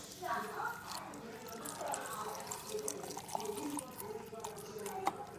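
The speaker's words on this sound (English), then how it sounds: "Cover it with water." Water is poured from a container over about two tablespoons of organic sugar in a jar, a soft, continuous trickle and splash filling the vessel while faint clinks sound in the background.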